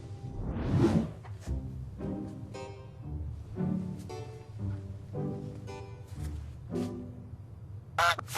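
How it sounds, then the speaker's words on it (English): Goose honking, a series of nasal honks and quacking calls at an uneven pace, fairly close with whooshing noises between them. "am I going crazy or is something honking? It's my new pet goose, Theo"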